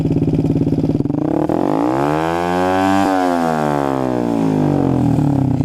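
A stock GPX Demon 125 carbureted motorcycle with a ProLiner full exhaust revs hard and loud up toward its limit, the engine note climbing and then dropping back in a sustained close-up roar.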